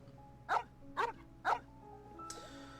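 A puppy in Genshin Impact gives three short, evenly spaced barks at close range over a soft game music backdrop, followed by a brief chime.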